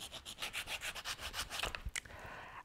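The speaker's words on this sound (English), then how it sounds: "File out a notch." A hand file rasps a notch into half-inch PVC pipe in quick rhythmic back-and-forth strokes, about a dozen close, crisp scrapes that speed up and turn irregular near the end.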